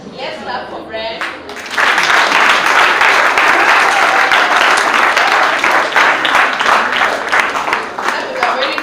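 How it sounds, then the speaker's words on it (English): An audience at a presentation breaks into sustained applause, dense and loud clapping that starts abruptly after a brief spoken moment and continues steadily to the end. "Let's clap for Brent."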